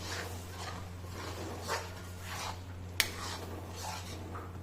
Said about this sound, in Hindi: अब मसाले को हम फटाफट फटाफट मिक्स कर लेंगे।